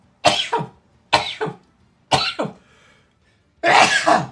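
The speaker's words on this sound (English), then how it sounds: "Kind of sneezed on my arm there." Someone coughs and sneezes right at the microphone, three short two-part bursts followed by a longer, harsher explosive sneeze, loud and close with no talk.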